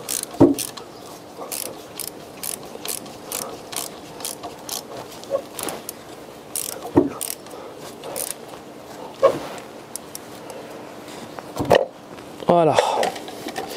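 A bolt being tightened by hand in a workshop, with a series of sharp ratcheting clicks and short metallic bursts spread through the clip, close by, and a voice speaking in places.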